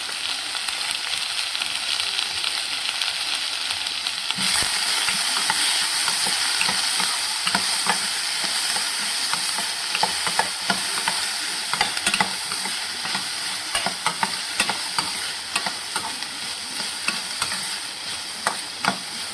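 Soaked chana dal stir-fried in a pan: a steady close sizzle of frying with repeated scraping and stirring strokes of a spatula throughout, no talking.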